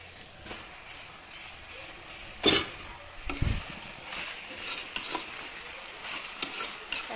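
Meat curry with potatoes and fresh peas is stirred in a pan, giving a soft simmering sizzle under repeated scrapes and a couple of sharp clanks of the spoon against the pan.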